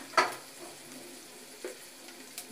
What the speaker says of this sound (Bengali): মশলাগুলো সুন্দর করে ভেজে নিব যাতে কাঁচা গন্ধ না থাকে।